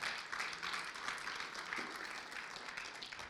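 Steady audience applause from a church congregation fills the whole stretch, many hands clapping at once in a dense, even patter.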